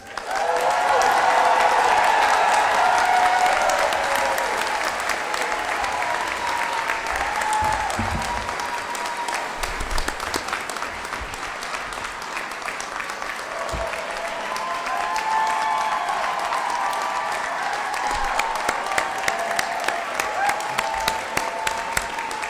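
Sustained, loud applause from a large audience for graduates at a doctoral hooding ceremony, a dense roar of clapping that holds for a long stretch, with a few sharper individual claps and whoops standing out toward the end.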